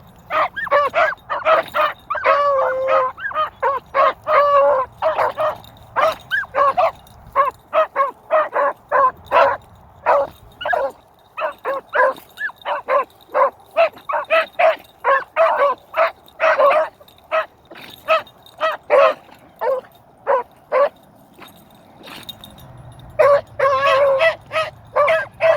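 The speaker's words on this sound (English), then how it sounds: "The two pups are going to leave Woodrow behind" Puppies bark, yip and whimper outdoors on a dry, windy day. Rapid, close yelps come in dense bursts throughout, with short pauses between them and a low gusty rumble underneath.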